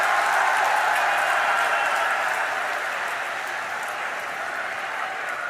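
A large crowd at an election rally applauds. Dense, continuous clapping stays loud and steady throughout and eases only slightly toward the end.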